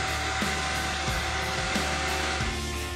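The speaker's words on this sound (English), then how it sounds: "put it on the top of your vacuum hose, turn on your vacuum" A shop vacuum fitted with a cup and straw nozzle runs steadily, a loud, even whining drone with a faint regular pulsing and no talking.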